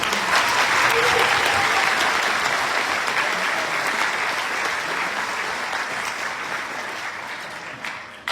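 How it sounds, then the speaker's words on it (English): Large audience applauding at a college graduation ceremony in Vancouver, a dense, loud wash of clapping that holds steady and tapers slightly over about eight seconds. "Let's give them another round of applause for outstanding performance."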